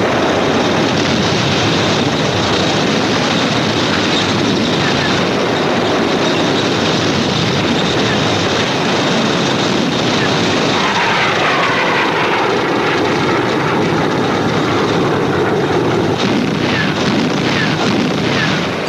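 Soviet warplanes flying during the Battle of Berlin, a loud continuous roar of aircraft engines layered with rumbling war noise, dense and unbroken throughout, with no voices over it.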